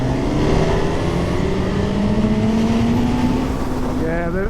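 A Honda Hornet motorcycle engine revs and accelerates hard from a launch, its pitch climbing steadily through the gear, loud and close, with a shift near the end and voices over it.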